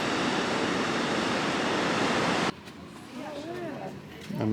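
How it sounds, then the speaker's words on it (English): Loud broadband rush of ocean waves breaking at the shore fills the first two and a half seconds, then cuts to quieter surf with a voice talking over it. "Some waves coming in now."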